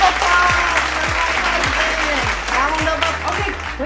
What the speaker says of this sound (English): So everybody give my husband a round of applause.